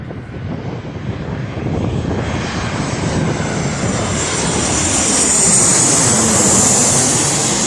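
A Ryanair jet lands at Birmingham Airport, its engines a loud, close rumbling roar that swells and brightens with a rising whine as it passes, dominating throughout with no talk.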